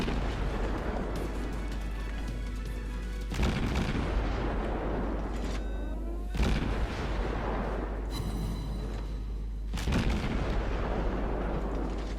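Warship guns in World of Warships firing high explosive shells: repeated loud booming salvos at about 3.5, 6.5 and 10 seconds over a constant low rumble, with no talk.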